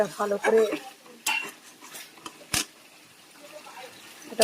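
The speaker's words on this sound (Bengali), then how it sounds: "ভালো করে মশলাটা ভেজে নেব।" Spice paste of ginger and cumin with tomato, salt and turmeric frying in a pan for khichdi, with soft sizzling, a spoon scraping and stirring, and a few sharp clinks of utensil against the pan.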